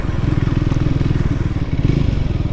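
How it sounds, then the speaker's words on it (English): A Triumph Scrambler 400 X motorcycle engine idles at low revs, close up and loud, with a steady rough pulsing thump that holds for the whole stretch with slight irregular dips. "you've just got to keep the revs up a little bit and she's fine"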